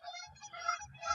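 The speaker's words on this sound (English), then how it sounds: "you can hear the geese behind" Geese honk faintly in the distance, a couple of brief calls carried over low background rumble outdoors.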